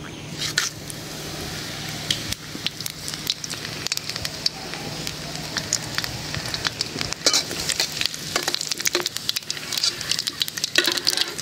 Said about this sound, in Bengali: আস্ত মশলাগুলি ভাজা নিলাম।